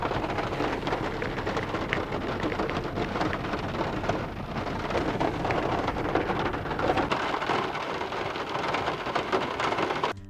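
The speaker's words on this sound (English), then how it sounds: "unfortunately we got caught in a rainstorm" Heavy rain pours steadily during a rainstorm, a dense continuous hiss of drops close by that stays loud and even from start to finish.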